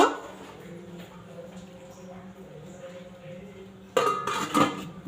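A metal lid clanks onto a wok of cooking khichdi near the end, a couple of short clattering knocks after a quiet background hum.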